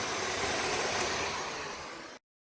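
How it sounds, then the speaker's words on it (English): Shark upright vacuum cleaner running close by with a steady, loud broadband whoosh and hiss, holding level for about two seconds before cutting off abruptly. "look at my shark hoover, look."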